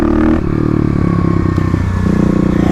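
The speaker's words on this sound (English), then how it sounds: "I was getting used to clutch ups with the KLX here." Kawasaki KLX351 dirt bike doing clutch ups, a loud close engine roar with a rapid throbbing pulse that dips briefly then surges again as the revs shift.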